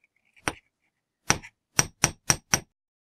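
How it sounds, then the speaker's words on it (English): Six sharp metallic chasing hammer taps flattening wire spirals, one, then one, then four in quicker succession, ringing briefly against silence. "flatten out the spirals a little bit using my chasing hammer"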